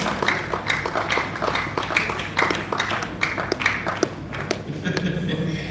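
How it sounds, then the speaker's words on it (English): An event audience applauds the panelists at a real estate gathering, a loose crowd of individual claps that are sharp and fairly close, thinning and scattering toward the end. "A legendary round of applause"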